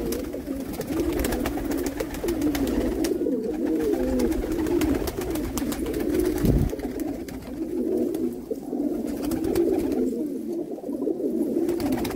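Border pigeons kept for sale in Jammu coo steadily close by, their low, throaty calls overlapping in a continuous murmur, with a few faint rustles behind.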